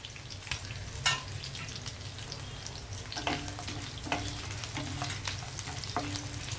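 Cumin, mustard seeds and dried chillies fry in hot oil in a pan while making bitter gourd fry, a steady close sizzle broken by light crackles, pops and the occasional scrape of stirring.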